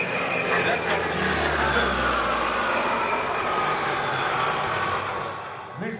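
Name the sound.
Atlantique 2 maritime patrol aircraft engines at air show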